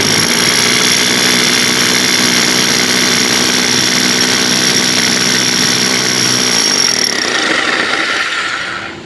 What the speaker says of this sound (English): you just kind of let the hammer do the work